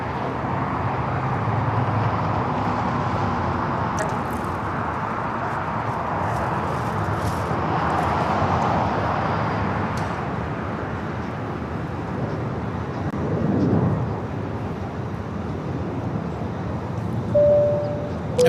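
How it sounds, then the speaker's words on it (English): A jet airliner takes off at LAX with a steady, broad roar that fills the whole stretch and swells slightly near the end, where a thin whine rises above the rumble. "first takeoff"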